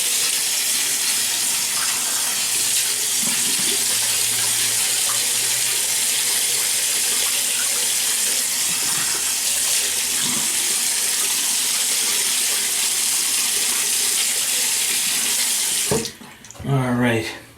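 Tap water running steadily into a sink to wet a bearded face before a shave, a loud, continuous close splashing hiss that cuts off near the end, followed by a short burst of handling sounds.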